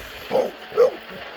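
A dog gives two short, soft barks close by, spaced about half a second apart.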